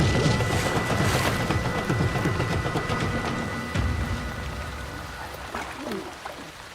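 Steady rain pours down outdoors on a riverbank in the Congo, a dense hiss of drops spread across the whole clip and fading slightly toward the end, with a few sharper spatters and knocks near the close.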